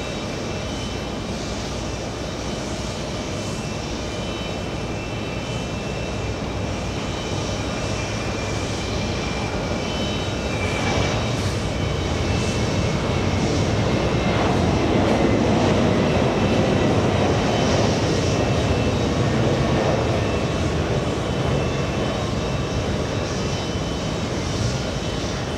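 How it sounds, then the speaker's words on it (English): A Lufthansa Boeing 747 bound for Frankfurt takes off from JFK, its jet engines roaring steadily and swelling louder midway as it accelerates down the runway, heard alone without voices. "747 on the move, Josh. You're racing down the runway."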